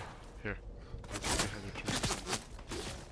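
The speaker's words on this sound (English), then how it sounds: "they're hella shooting me" Rapid bursts of video game gunfire in a Fortnite match come in quick volleys, with people talking over them.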